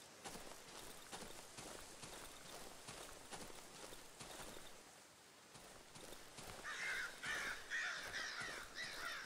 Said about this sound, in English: What is it, crows?